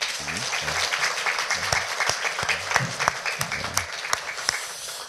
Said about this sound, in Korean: 우리 국군 장병들을 위해서 우리 한번 격려의 박수하겠습니다.